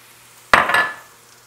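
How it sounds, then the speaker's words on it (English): A spoon scrapes and stirs through a pan of beef and bean mixture as a cup of shredded sharp cheddar goes in for tamale pie, giving a sudden close clatter that trails off into softer scraping with the heat turned off. "So now I'm going to turn off the heat and stir in the 1 cup of sharp cheddar"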